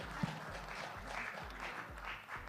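Scattered applause from a panel discussion audience, faint and brief, with a low rhythmic hum or murmur underneath.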